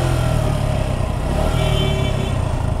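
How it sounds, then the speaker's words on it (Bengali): A used motorcycle idling, either a Suzuki Gixxer FI ABS or Yamaha FZS V3, with a steady low engine drone and a rough rattling running through it, close and continuous with no talking. "প্রথমে একটু সাউন্ডটা শুনি, ইঞ্জিনের সাউন্ডটা। ইঞ্জিনটা মনে হচ্ছে যে ঝরঝর ঝরঝর একটা সাউন্ড চলে আসছে"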